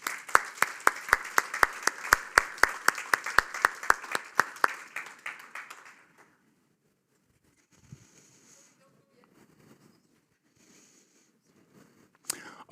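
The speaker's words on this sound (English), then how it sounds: "I think you all have deserved a big applause" A conference audience at a Nordic digital health event breaks into warm, rhythmic applause for about six seconds, then the hall falls quiet with faint murmurs before a sharp sound at the end.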